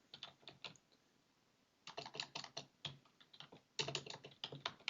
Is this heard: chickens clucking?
no